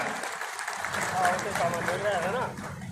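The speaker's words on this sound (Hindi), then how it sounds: "इसके लिए बार बार धन्यवाद और तालियों के साथ इनका स्वागत किया जाए।" Audience applause welcoming a guest at a village ceremony in Nirjhardham Ranasar, a dense steady patter from a crowd lasting the whole moment, with a voice speaking over it.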